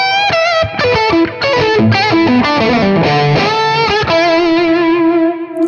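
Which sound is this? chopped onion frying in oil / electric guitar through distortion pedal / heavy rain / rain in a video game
electric guitar through distortion pedal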